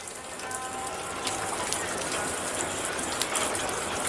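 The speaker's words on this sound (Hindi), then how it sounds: "इसको कहा जाता है भिजौआ बारिश, जो भिगाने वाली है" Steady, soaking monsoon rain falls in Pithoragarh, Uttarakhand, a continuous dense hiss of drops pattering on surfaces nearby with occasional heavier drips, unbroken for the whole stretch.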